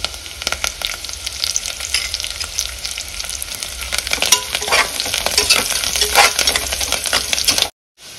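Mint and coriander leaves fry in hot oil in a pressure cooker for tomato biryani, giving a loud, continuous crackling sizzle with stirring scrapes that cuts off abruptly near the end, no voices.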